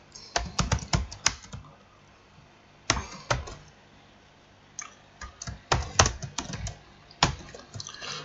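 Computer keyboard typing comes in quick clustered bursts of crisp clicks, close and clear, separated by short pauses, with no talking.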